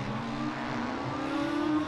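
Formula Student race car number 94 at the endurance finals, its engine note steady and droning as it crosses the line, held at a moderate distance with a slight rise toward the end.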